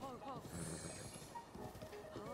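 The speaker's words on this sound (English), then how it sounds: "Chill, horse. You're gonna get me killed." Galloping horse in The Legend of Zelda: Breath of the Wild, with rhythmic hoofbeats and a brief whinny, moderately loud amid game effects and background noise.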